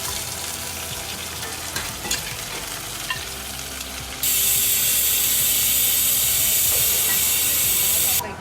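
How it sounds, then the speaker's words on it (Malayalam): Beef frying in hot oil with curry leaves and coriander leaves, a steady loud sizzle that jumps to a bright, intense hiss halfway through, with stirring scrapes in the first half. "കുറച്ച് കറി ലീവ്സ് ആൻഡ് കൊറിയാൻഡർ ലീവ്സ് ആ ചൂടായ എണ്ണയിലോട്ട് ഇട്ടിട്ട് പിന്നെ ബീഫ് കൂടി ആഡാക്കി ആവശ്യത്തിനുള്ള മസാലയൊക്കെ ഇട്ട് വഴറ്റി"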